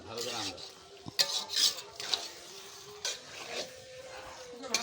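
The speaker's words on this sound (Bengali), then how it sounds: "সুন্দর করে মশলার সঙ্গে মাংসগুলো মিশিয়ে নিচ্ছিলাম" Meat being mixed with spices in a pot at a home gathering, metal utensil scraping and clinking against the pot in irregular bursts, with faint background chatter.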